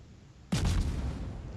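A warship's naval guns fire in World of Warships, one abrupt loud boom that swells into a rumbling, heavy report and lingers as a long low roll, with no talk over it.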